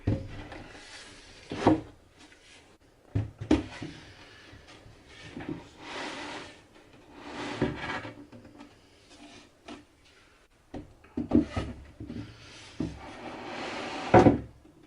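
Handmade wooden drawers slid in and out of a chest of drawers on simple wooden runners, with a series of scraping slides and hollow knocks spaced irregularly, close by in a quiet workshop.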